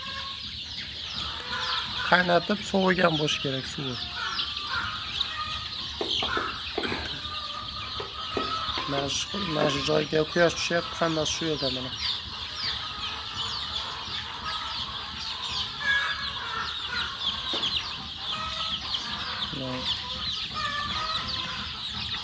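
Young chicks under about fifteen days old chirp continuously in a dense, high-pitched chorus, with bursts of louder peeping; someone talks over them for part of the time.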